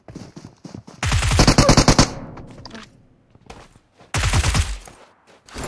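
AK assault rifle fire in an online shooter game: two loud, rapid automatic bursts of about a second each, separated by quieter scattered shots and near-silence, with no talking.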